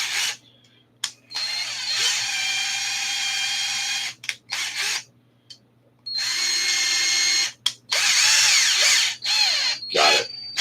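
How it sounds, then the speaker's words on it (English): ARRMA RC car motor whining as it is run in reverse and then forward to thread a nut, several loud, close bursts of high electric whirring separated by short silences. "what I was doing is just reversing and then going forward, reversing, going forward, waiting for that thread to line up on the first thread"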